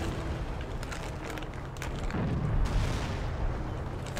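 Nebelwerfer rocket artillery fire in Company of Heroes, a dense rumbling barrage of booms and crackling impacts layered with distant gunfire, loud and continuous throughout.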